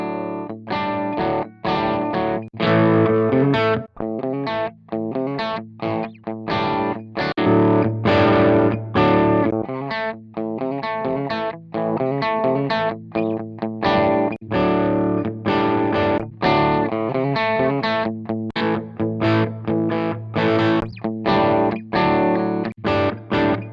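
A loud, gritty distorted electric guitar through a Strymon Iridium amp modeler pedal plays chopped, rhythmic chords with a thick, saturated tone, played alone without any voices.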